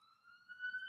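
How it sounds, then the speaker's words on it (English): An ambulance siren sounds outside, a steady high wail that swells a little louder toward the end, heard alone without talk. "there are ambulance sirens behind me"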